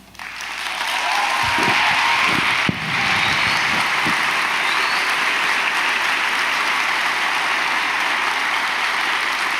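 Sustained applause from an audience inside a hall during a speech, a broad continuous clatter of many hands that holds steady throughout, with a few low thumps early on.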